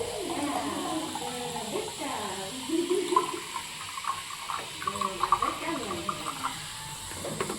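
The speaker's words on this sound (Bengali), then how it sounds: "এই যে জল গরম করে নিয়ে দিয়ে দিচ্ছি।" Heated water poured out, a splashing, gurgling stream with scattered drips and clinks, fairly faint, with a voice talking over parts of it.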